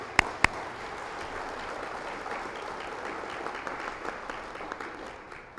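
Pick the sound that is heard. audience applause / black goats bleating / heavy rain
audience applause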